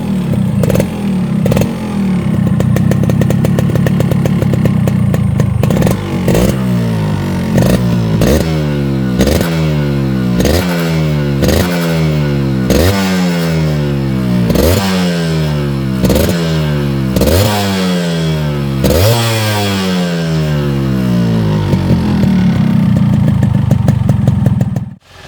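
A Yamaha RX135 5-speed motorcycle fitted with an RX King exhaust silencer runs loud and close, its two-stroke engine repeatedly revving up and dropping back in quick rising sweeps before settling toward idle.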